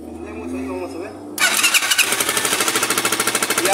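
A Chinese motorcycle fitted with an automatic starter circuit cranks and then catches partway through. It settles into a loud, steady, rhythmic idle, with a voice audible near the start.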